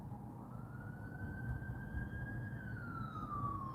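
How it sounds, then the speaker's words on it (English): An ambulance siren passes at a distance near a hospital, one long wailing tone rising and then falling over a steady murmur of traffic, faint but clearly heard. "there's a hospital right next to me, so always ambulance is going by"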